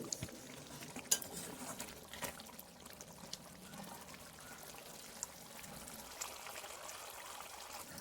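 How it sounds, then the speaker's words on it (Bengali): Paneer cubes and spices are stirred in a kadai, soft scraping and clinking of a spoon against the pan with quiet sizzling, faint and close, with no voices. "পনিরগুলো দিয়ে ভালো করে কড়াইতে নেড়েচেড়ে নিতে হবে"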